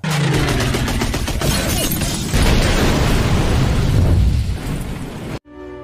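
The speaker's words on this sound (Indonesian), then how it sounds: "Ia berusaha menembaki pesawat itu hingga meledak." In a war film, a plane blows apart after being shot down at sea, a loud sustained roaring blast with crackling bursts that cuts off abruptly near the end.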